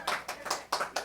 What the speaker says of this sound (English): I think people are still allowed to clap, aren't they?